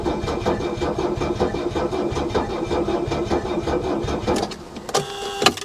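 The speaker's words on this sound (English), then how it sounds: "I do hear that it's cranking though. It is cranking." A Mercedes S420 engine cranks repeatedly without catching, a steady rapid rhythmic churning that holds for several seconds before a brief pause and a sharper mechanical chirp near the end.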